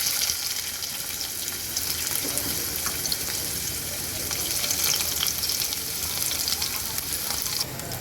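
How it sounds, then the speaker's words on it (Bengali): Chopped onions hiss and sizzle steadily in hot oil in a wok while chicken curry is being prepared, a dense, close frying crackle that carries on without pause and with no talk. "কড়াইতে তেল গরম করতে বসিয়ে দিয়েছি এখন আমি এর মধ্যে দিয়ে দেব কুচানো পেঁয়াজ"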